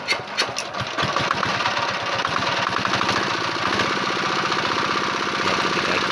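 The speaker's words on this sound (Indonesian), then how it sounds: "Akan kita coba terlebih dahulu mesinnya." A Dongfeng diesel engine suffering heavy oil consumption runs on test, a loud close rhythmic knocking clatter that starts with a few uneven beats and then settles into a steady idle chug.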